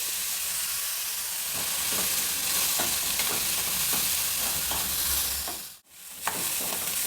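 Cumin seeds and onion fry in a pan with a dense, steady hiss and crackle and frequent stirring scrapes, briefly dropping out near the end before the sizzle resumes.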